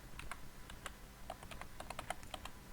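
Code being typed on a computer keyboard for a VB.Net virtual assistant project, with quick irregular clusters of crisp key clicks, close and quiet, with no voices.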